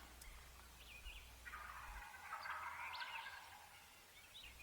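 Wild turkey gobblers gobble in Missouri woods, a rattling call at moderate distance with fainter gobbles before and after, over a low steady hum and no talk.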